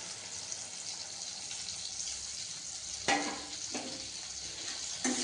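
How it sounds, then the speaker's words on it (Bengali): Masala of mustard, poppy seed, ginger, turmeric, chili and cumin powder frying for a pabda fish curry: a steady faint sizzle throughout, broken by a few sharper scraping stirs near the end. "এবার সর্ষে পোস্ত আর অল্প আদা আর হলুদ গুঁড়ো লঙ্কা গুঁড়ো জিরে গুঁড়ো দিয়ে এবার কষিয়ে নেব মশলাটা"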